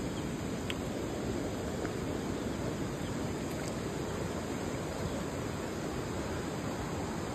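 A flooded village river rushes past in a constant broad roar of water, steady and unbroken, with faint insect chirps above and no talking.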